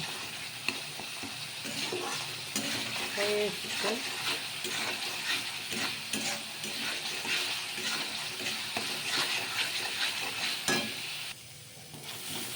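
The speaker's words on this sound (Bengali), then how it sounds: "ভালো করে ভেজে নেবো। দেখতে পাচ্ছ তেল যখন ছেড়ে দেবে তখনই কিন্তু মশলাটা পুরো ভাজা হয়ে যাবে" Ginger-garlic masala fries in oil for a fish curry, a dense, steady sizzle with frequent stirring scrapes close by, a voice briefly speaking over it before the sizzle drops away near the end.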